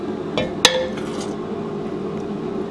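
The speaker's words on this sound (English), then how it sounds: "We're going to scoop this into our bowl." Hamburger soup scooped from a pot into a bowl, with a couple of sharp metallic clinks of a ladle against cookware near the start over steady background noise.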